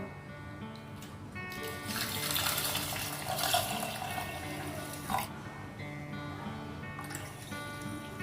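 Water is poured into sugar for jalebi syrup, a close splashing pour that swells for a few seconds and then trails off into lighter trickles and drips.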